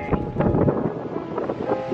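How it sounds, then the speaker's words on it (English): Strong outdoor wind gusting and buffeting the microphone on a very windy day, a steady roar with rumbling low-end surges throughout. "really windy today."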